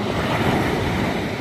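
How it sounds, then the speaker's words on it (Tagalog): Ocean surf rolls in as a steady, loud wash of broadband noise, with the waves and wind blending into one continuous roar close to the shore. "Yung wave."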